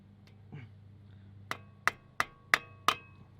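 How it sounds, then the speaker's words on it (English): A hammer drives a CV axle joint out of a 2011–2016 Scion tC, striking a piece of wood held against it: five sharp, loud knocks in an even rhythm after a few faint handling sounds. "make sure to put like something like a piece of wood or something and hammer it out"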